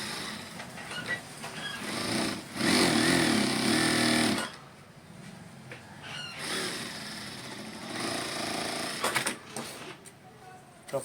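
A sewing machine stitches a shirt in quick whirring bursts separated by pauses, fairly close, with a person talking in between.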